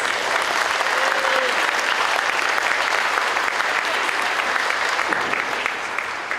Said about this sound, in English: Please give another round of applause to our 2025 Rotary Club of Bryson City Scholarship recipients.